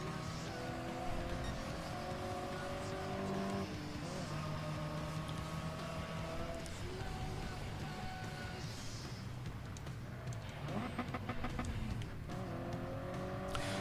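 Toyota GT86 race car engine in Gran Turismo Sport, holding a steady drone with shifting pitch as gears change, loud and continuous throughout, mixed with other racing cars nearby.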